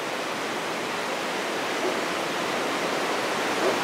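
A river swollen by heavy rain rushes as a dense, steady roar of floodwater, constant and loud with no voices over it.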